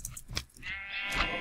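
A single wavering sheep bleat from a Minecraft sheep, brief and fairly quiet, rising and trailing off over about a second.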